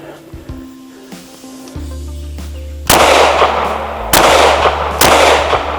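Sharp pistol shots ring out at a shooting range, three loud cracks spaced about a second apart after some quiet handling noises, with no talking.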